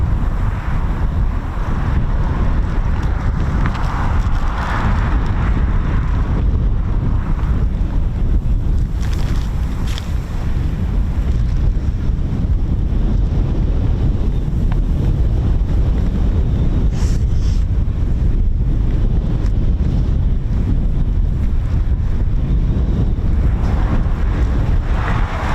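Strong wind buffets the microphone at RAF Coningsby airfield, a loud, continuous low roar with gusty swells that fills the whole stretch, with no voices over it.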